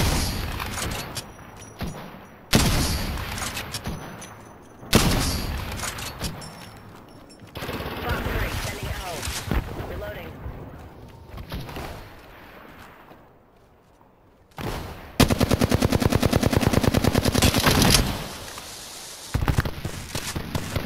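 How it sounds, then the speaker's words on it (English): Dense bursts of automatic gunfire from the Apex Legends battle royale, loud rapid volleys in several bursts with short gaps, a sustained burst near the end, with players talking over the fighting. "They're shooting at me."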